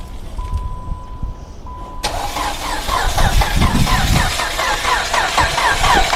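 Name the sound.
Dodge Avenger engine cranking over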